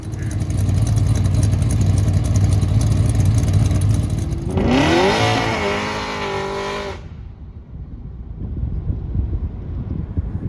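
A pickup truck makes a 200-shot nitrous pass, its engine roaring loud and close with a rising pitch through a gear, then dropping away into wind buffeting.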